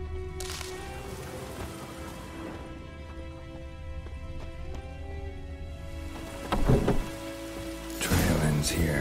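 Steady rain pattering in The Witcher video game, a continuous soft hiss with occasional louder splashes and rumbles, mixed with faint background game tones and no speech.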